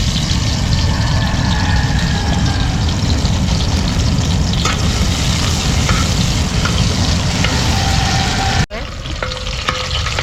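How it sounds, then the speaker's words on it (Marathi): Garlic and coriander paste hits hot oil in a wok and sends up a loud, dense crackling sizzle with stirring. Near the end a sharp break is followed by a slightly softer, continuing fry. "आता तेल मस्त गरम झालेलं आहे त्याच्यामध्ये लसूण आणि कोथिंबीरीचा वाटण घालू"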